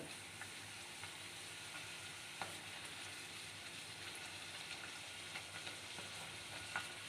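Varagu rice puris fry in hot oil with a steady, even sizzle and a few soft crackles and light stirring touches, close by, with no one talking.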